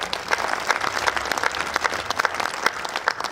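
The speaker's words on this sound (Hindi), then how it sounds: "जितने लोग सुनना चाहते हैं, बस उतने लोग एक बार मुझे ताली बजाकर बता दीजिए" An audience at a Hindi comedy show claps briefly on request, a moderately dense patter of many hands with some individual claps standing out, held at a steady level for a few seconds.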